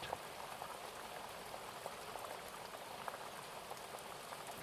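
Rain falls as a soft, steady patter of dense droplets on a surface, continuous and fairly faint, with no voices over it.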